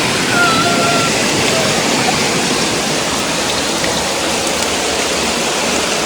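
Water pours continuously from a spring at a Khodiyar temple, a loud, steady rushing splash with no pause or change throughout.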